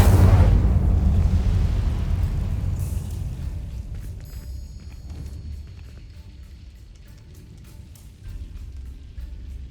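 The Incendio fire spell in Hogwarts Legacy, a loud burst of flame with a crackling rush at the start that fades into a lingering fizzling, sputtering tail over several seconds.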